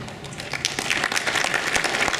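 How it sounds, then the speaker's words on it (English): Audience applause at an annual meeting and awards event honoring a board of directors, a steady patter of many hands clapping at moderate level throughout with no voices over it. "let's give them a well-deserved round of applause"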